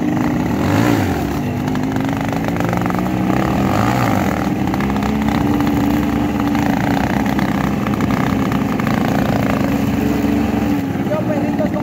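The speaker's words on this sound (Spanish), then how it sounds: "la moto se me está ahogando, pero en segunda la levantamos bien" A Yamaha XTZ 125 motorcycle engine drones steadily and loudly in second gear, its pitch rising and falling as it sputters, bogging down, and revs, close to the listener.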